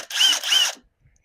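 A power tool whirs in two short, loud, close bursts while pulling a bolt on a car's brake caliper during a pad replacement, then cuts out into near silence.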